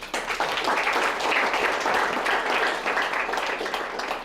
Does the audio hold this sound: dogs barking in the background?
no